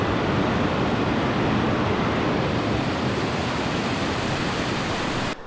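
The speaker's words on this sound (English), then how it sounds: "There's a lot of water moving through and a nice big rock there" River rapids rush around a big rock in the Australian wilderness during a packrafting trip, a loud, unbroken roar of fast-moving water close by with no pauses.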